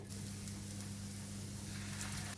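Soft, steady sizzle of a liver patty frying gently in oil over the lowest heat, with a low continuous hum underneath.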